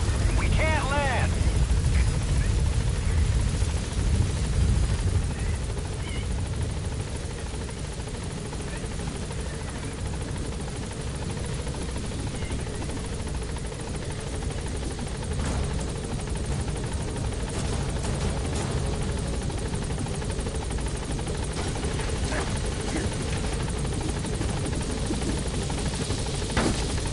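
The Pequod helicopter from Metal Gear Solid V gives a steady, dense rotor roar, loudest at the start and then holding level as it flies, with voices speaking over it.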